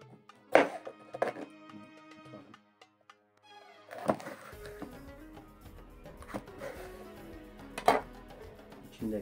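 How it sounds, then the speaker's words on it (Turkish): A knife chops red pepper on a cutting board in a kitchen, giving a few sharp isolated thunks spaced by quiet pauses, close and clear with no speech. "Evet, kırmızı biberimizi de doğrayalım."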